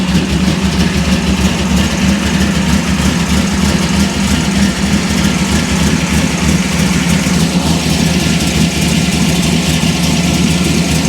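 A Chevrolet Monte Carlo V8 engine idling fast just after starting, a steady loud rumble that holds even throughout with no talk.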